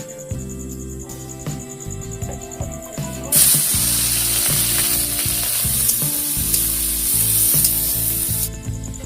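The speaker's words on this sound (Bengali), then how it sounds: "এখন আমরা দিয়ে দেবো পাস্তা ভাজার জন্য" Pasta frying in a pan, with small meat pieces cooked nearby in a rural-style dish, makes a loud, bright sizzle that jumps up partway through and crackles steadily under a faint tonal background.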